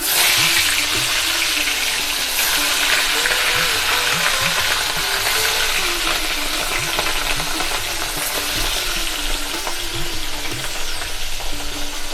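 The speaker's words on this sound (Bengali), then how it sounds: "তেল আমাদের গরম হয়ে গেছে, মাছ দিয়ে দিচ্ছি।" Pieces of katla fish sizzle and crackle loudly in hot oil in a pan, a dense, steady frying hiss that lasts throughout, close up, with no talk over it.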